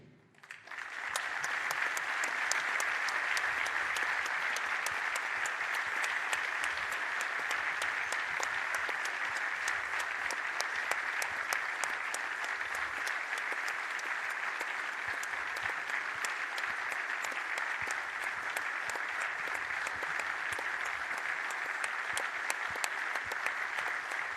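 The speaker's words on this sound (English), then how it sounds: "We're going to show our appreciation, ladies and gentlemen, with a 24-second applause." A crowd at a men's national basketball cup final applauds in tribute, a dense, steady clapping that swells quickly and holds at full volume for about 24 seconds without pause.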